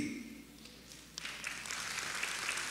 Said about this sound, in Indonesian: Tepuk tangannya lebih mantap lagi